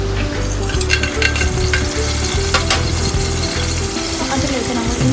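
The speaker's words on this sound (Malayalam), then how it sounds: "ആ ഒരു ഓയിൽ ചൂടായി വരുമ്പോൾ നമുക്ക് പട്ട, അതുപോലെ ഗ്രാമ്പു, പിന്നെ ഏലക്ക, ഇങ്ങനെയുള്ള സ്പൈസസൊക്കെ ഇട്ട് കൊടുത്തിട്ട് ഒന്ന് ചൂടാക്കി എടുക്കാം" Whole cinnamon, cloves and cardamom crackle in hot oil for beef rice, a loud, steady frying hiss with scattered pops and light stirring, close and without speech.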